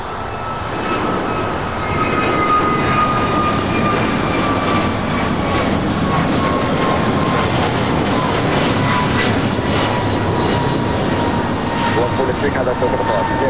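An American Airlines jet airliner at LAX produces a loud, steady engine roar with a slowly falling whine throughout, and voices talk faintly beneath it.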